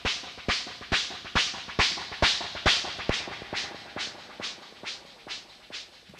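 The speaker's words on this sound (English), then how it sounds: "this is also the snare engine, but I reduced the attack." Snare drum from the free Flechtwerk drum-synth plugin with its attack reduced, a steady run of about fourteen evenly spaced snappy hits, each with a short noisy decay, dry and alone.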